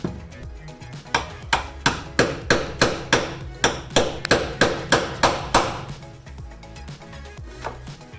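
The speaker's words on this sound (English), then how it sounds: "get you a socket and a hammer" A hammer strikes a metal socket in a steady run of about a dozen sharp taps, close up, then a couple of lighter hits.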